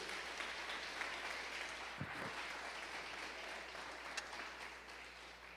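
A church congregation claps for Jesus during a sermon, a steady wash of applause that fills the room at moderate level and carries on evenly throughout, with a couple of brief low thumps near the middle.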